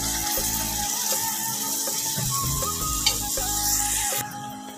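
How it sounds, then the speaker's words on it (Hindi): Gosht (meat) frying and being stirred in a pan, with a steady sizzle and scraping stirring noises throughout, fairly close and alone without talk. "हम गोश्त को अच्छे से भूनेंगे उस वक्त तक जब तक गोश्त का कलर"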